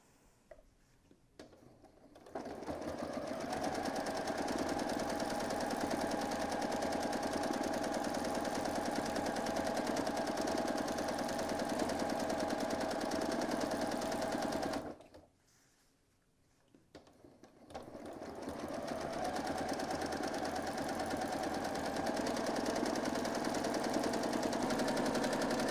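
A sewing machine runs steadily while free-motion stitching a small quilt, a close continuous mechanical whir that stops briefly midway, then resumes for a second long run.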